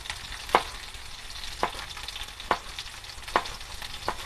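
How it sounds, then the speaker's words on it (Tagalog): Mung beans sautéing with garlic in a pan, a soft continuous sizzle punctuated by four or five sharp spatula scrapes and knocks at roughly regular intervals, close and without speech. "ginigisa na natin. Mag-start na tayo magluto ng munggo."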